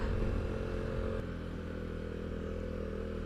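A KTM Duke 390 motorcycle hums along at a steady cruise as it comes into Sheffield, its low engine drone constant and close, with a slight drop in level partway through.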